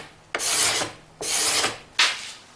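A hand scraper drawn across small wooden pieces to remove glue and pencil marks makes three rasping strokes, each a bright scratchy swipe, close and clear with no talk.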